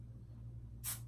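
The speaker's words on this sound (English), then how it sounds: "I spray it like that and let all the hairspray fall on it" One short, bright hiss of hairspray from an aerosol can near the end, sprayed onto long curled hair against a low background hum.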